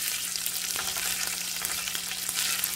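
Scrambled eggs stirred into frying chorizo crackle in a steady, dense sizzle, close and continuous for a few seconds with faint spoon scrapes and no voices.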